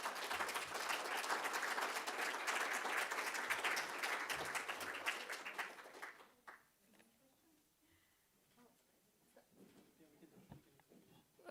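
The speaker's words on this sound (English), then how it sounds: "I just welcome everyone to give the panelists a big round of applause." An audience at a Gender Lens Initiative for Switzerland panel event applauds the panelists, a dense, sustained round of clapping that holds steady for about six seconds, then fades out to quiet room murmur.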